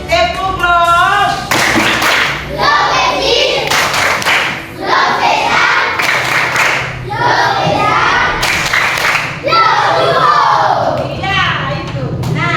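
A classroom of children claps a patterned rhythm together, loud and close, with bursts of hand claps and chanted voices throughout the sequence.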